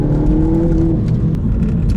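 A Mini Cooper S accelerates during ordinary driving, with a loud close engine drone that climbs briefly and then holds steady for about two seconds.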